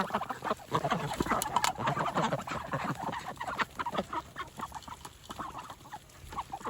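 Several chickens cluck and squawk close by in a busy, overlapping chorus, with scratching and pecking sounds mixed in.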